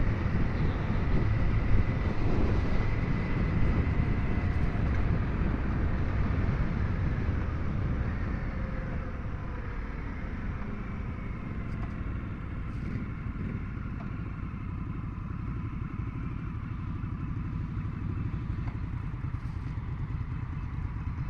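Indian FTR1200 S motorcycle cruising at 3,000 RPM in 6th gear at about 50 on a ride in El Cajon, California, a steady low engine drone mixed with wind rush, unchanging throughout.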